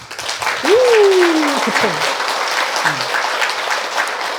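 Audience clapping for the Buddha during a Buddhist dharma talk, steady broadband applause throughout, with a speaker's voice briefly heard over it at the start.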